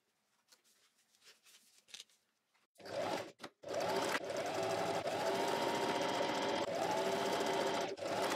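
After some quiet handling, a sewing machine stitches a trouser flap right side to right side onto fabric at 1 cm, then runs in a steady close whir with brief stops and restarts.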